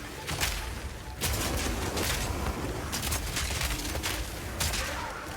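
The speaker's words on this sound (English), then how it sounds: "using it will summon a cannon which loads and then fires the grenade you choose" Mortar cannon firing grenades in the video game Path of Exile, a series of sharp, loud blasts repeating at short irregular intervals over a steady rumbling background.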